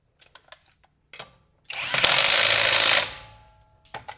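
A generic cordless impact wrench set to 200 foot-pounds hammers loudly for about a second on a car lug nut, preceded and followed by sharp clicks of handling.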